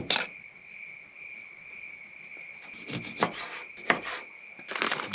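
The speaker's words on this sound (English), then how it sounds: "Cicadas are out in full force." Cicadas buzz in a steady, continuous drone at a hilltop campground on Charleston, holding an even level throughout, with a few short knocks and clatters of food being cut breaking through near the end.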